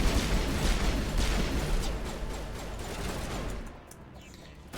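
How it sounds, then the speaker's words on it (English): Gunfire crackles through a shootout in the video game Mass Effect 1, a dense run of rapid shots and bursts that keeps up at steady loudness before thinning out near the end, with faint voices beneath. "You guys shooting at someone right there? You absolutely are."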